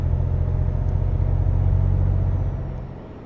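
A governed truck in Euro Truck Simulator 2 drones with a steady, deep engine hum and low tonal rumble that eases off toward the end, with no talking over it.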